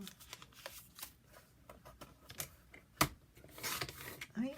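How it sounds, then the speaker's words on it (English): Scissors snip through tabbed journal paper in a series of short, crisp cuts with light paper rustling between them, one sharper snap standing out, fairly close and quiet. "I'm going to cut that tab off."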